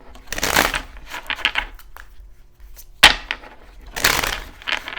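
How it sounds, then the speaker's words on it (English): Tarot cards being shuffled by hand in a few quick riffling bursts, crisp and close, separated by short quiet gaps, with light handling clicks between them. "Gonna shuffle a couple more times."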